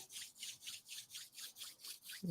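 Palms rub briskly together in about nine quick, even strokes, soft and close, in a quiet room.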